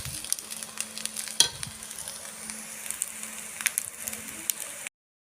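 Nasi tiwul with salted fish fries in a small wok, a steady close sizzle and crackle with occasional scraping stirs.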